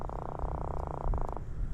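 Saltwater croaker fish, of the drum family, croak close by in low, rapid pulses, a steady grating drone that stops briefly and then resumes.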